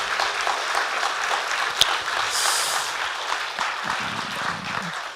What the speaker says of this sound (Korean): 우리 하나님께 한번 영광의 박수 올려드립시다